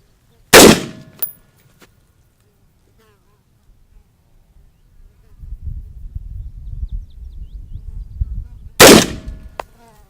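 Two sharp gunshots fired at a target box, one near the start and another near the end, each loud and close with a short ringing tail, separated by quiet low rumbling.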